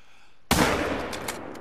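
A single sharp rifle report in theHunter: Call of the Wild hunting game, a loud sudden crack followed by a long, decaying outdoor echo, with no one talking.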